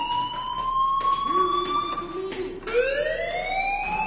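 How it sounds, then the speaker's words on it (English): Wailing electronic fire alarm in the video game Life is Strange, with sustained rising and falling tones and a sharp upward sweep near the end, loud and continuous over faint background sound. "do you hear that fire alarm? That means you should be outside."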